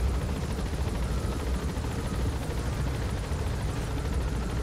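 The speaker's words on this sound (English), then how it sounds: "There's an enemy helicopter patrolling in the distance, so we'll need to be careful and avoid it as we make our approach." Enemy helicopter patrolling in Metal Gear Solid V: The Phantom Pain, a steady broad rotor and engine roar that holds loud and unbroken throughout.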